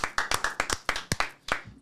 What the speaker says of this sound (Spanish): Amén, un aplauso, amén.